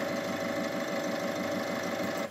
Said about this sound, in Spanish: Ahora vamos a arrancar el motor.